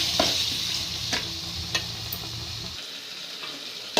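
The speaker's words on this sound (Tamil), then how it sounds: "இப்போ தக்காளி சேர்த்துக்கலாம். தக்காளி நல்லா வதங்கணும்." Tomatoes sauté in oil with chili powder for tomato rice, a constant close sizzle broken by a few distinct spoon scrapes and taps against the pan, with no voices.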